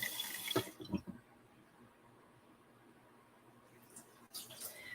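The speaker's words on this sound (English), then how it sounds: "I'm rinsing the dish out" A dish being rinsed under a running kitchen tap after scallops go into the pan, with a steady stream of water hissing for several seconds between brief clattering splashes at the start and end.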